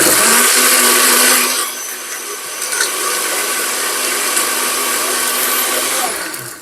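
A VEWIOR 1500W personal blender whirs loudly, its pitch dropping as it grinds through ice and fruit, then settles into a steady high buzzing drone.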